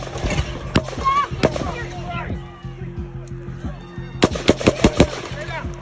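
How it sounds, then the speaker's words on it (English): Gunshots ring out at an outdoor Trump rally, sharp cracks in scattered bursts and a rapid cluster near the end, amid crowd screams and shouting voices. "5 more shots were fired about 10 seconds later."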